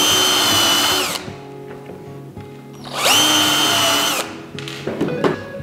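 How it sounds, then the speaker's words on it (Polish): A power drill pre-drills a wooden board for screws while a simple bird feeder is built. Two loud, close whining bursts of about a second each are followed by a short third burst, with light knocks in between. "Tylko, że by nam deska nie pękła, musimy najpierw ją nawiercić."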